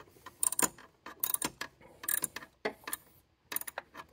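A bolt on a VW Beetle is turned by its ring with a wrench, producing quiet close ratcheting clicks in short repeated bursts separated by brief pauses.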